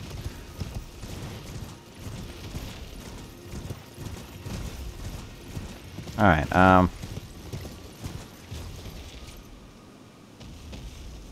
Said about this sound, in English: Riding a horse inside.